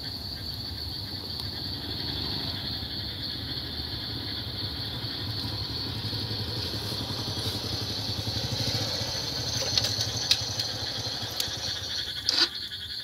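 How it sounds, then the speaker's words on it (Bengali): A motorcycle approaches at night, its low engine drone building gradually beneath a steady, loud chorus of crickets, with a few sharp clicks near the end. "এই যে মোটরসাইকেলে আসবে, মোটরসাইকেল আসতেছে"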